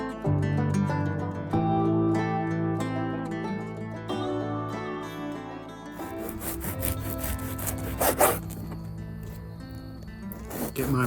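A hand rubs olive oil and seasoning into raw chicken outdoors over a campfire, producing soft, rough rubbing and scraping strokes under a background of music and occasional speech.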